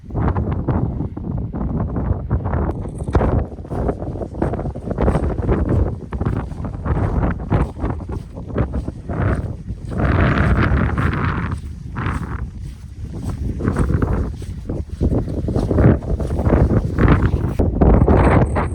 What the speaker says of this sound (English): The wind isn't quite as strong in this little area we're in.